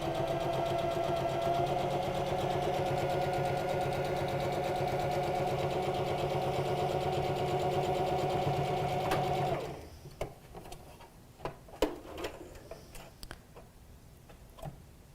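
A sewing machine stitches Olson face mask pieces in a steady, rapid mechanical whir for about ten seconds. Then it stops, and light clicks and handling of the fabric follow nearby.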